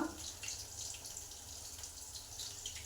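Curry leaves and coriander rinsed under a running kitchen tap, a steady soft stream of water splashing into a sink with faint dripping, continuous and fairly quiet throughout.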